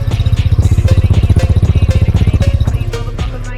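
A Hero Xoom scooter engine idles close by, a loud, fast and even putter that holds steady and then eases slightly near the end, with no talking over it.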